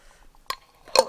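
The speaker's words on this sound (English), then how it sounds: "Pop the lid back on." A lid is pressed back onto a small container, heard as two close, sharp clicks about half a second apart in an otherwise quiet room.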